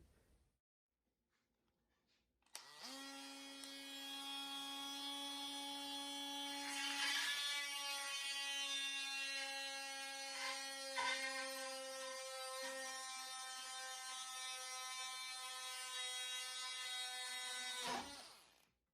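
A Ridgid JobMax oscillating multi-tool cuts into wood, starting abruptly with a loud, steady high-pitched buzzing whine that briefly dips as the blade bites, then runs on before stopping sharply.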